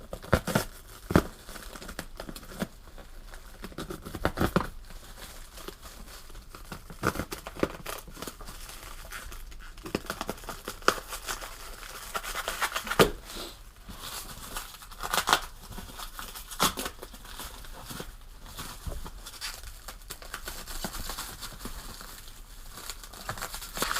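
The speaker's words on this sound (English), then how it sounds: "we'll go ahead and get this cut out. Looks like a good box cutter." A box cutter slices through material in a race-car build shop, producing intermittent sharp scraping and crinkling cuts in irregular bursts against a quiet background.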